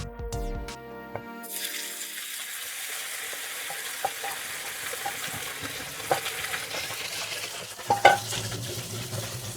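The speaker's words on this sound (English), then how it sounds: "when you pour this thing in, be careful because it will be really sizzling" A hot pan of beef bursts into loud sizzling as liquid is poured in, the hiss dropping to steady frying with occasional stirring and scraping clatter near the end.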